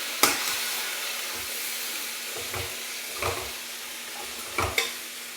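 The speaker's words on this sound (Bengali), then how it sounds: "নাড়াচাড়া করি।" Tamarind pickle frying in a pan with turmeric, a steady close sizzle and hiss broken by several scraping stirs of a spoon against the pan at irregular intervals, with no talking.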